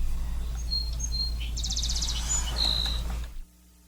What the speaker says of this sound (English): watching and listening to some small birds and some very large ones up in western Idaho